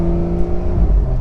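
Turbocharged engine of a Porsche 911 Carrera S Cabriolet (992) revving, a loud, close, steady drone with a brief pitch dip and rise near the end, no voices.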